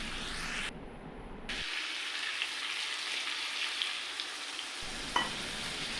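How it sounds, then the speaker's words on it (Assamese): Duck meat sizzles steadily in a hot pan for a curry, a continuous close crackling hiss with occasional stirring scrapes. "মাংসখিনি মই ভালদৰে অলপ সময়ৰ কাৰণে ভাজি থাকিম"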